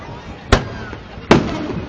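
Fourth of July fireworks over West Allis, Wisconsin pop in two sharp, loud bursts about a second apart, each echoing briefly against a quiet background.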